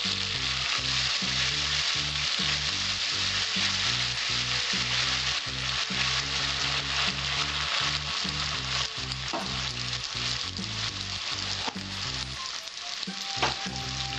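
Green chilli paste and slit green chillies frying in a pan for an ash gourd and fish head ghonto make a loud, continuous sizzling hiss with faint stirring clicks, close and unbroken.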